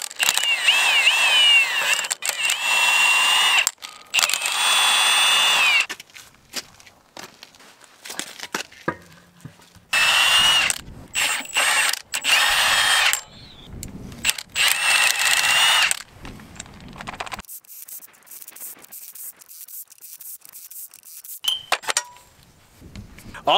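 Car wheel studs get rethreaded to clear out grime, producing bursts of gritty metallic scraping and ratcheting clinks separated by short pauses, close up and without talk.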